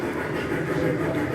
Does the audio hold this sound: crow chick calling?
no